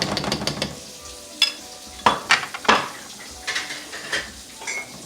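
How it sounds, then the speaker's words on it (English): Butter sizzling in a pan with smothered pork, a soft hiss beneath clinks and scrapes of a utensil against the pan, with several louder knocks in the middle. "I'm adding some butter to this as well."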